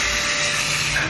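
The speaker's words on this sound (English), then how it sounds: "So I have my pink little drill." A small pink power drill runs continuously, giving a close, steady motor whine with a faint high tone and no pauses or talk.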